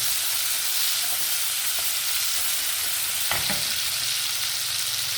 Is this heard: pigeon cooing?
no